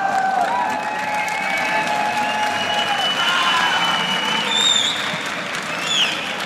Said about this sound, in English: First up, of course, an applause from the crowd